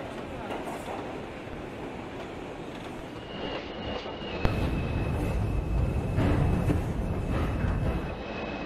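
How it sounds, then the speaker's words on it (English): An NYCT R142 subway train runs in Trainz 2019 on the 3 line toward New Lots Avenue, giving a steady rumbling roll. A sharp click is followed by louder running noise and a faint high tone, with no talking. "This is a New Lots Avenue bound 3 train."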